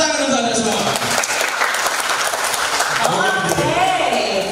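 Audience applause at a public speaking training session for public service call center staff, loud and sustained with voices and cheering mixed in throughout.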